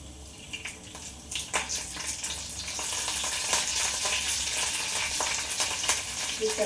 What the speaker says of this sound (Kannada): ಸಾಸಿವೆ ಸಿಡಿದ್ಮೇಲೆ ಕರಿಬೇವು ಹಾಕಬೇಕು